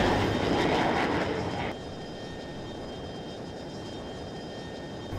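Jet aircraft engines drone in the F22 Total Air War flight game, a loud steady roar that drops to a lower, duller hum partway through and holds there with no speech.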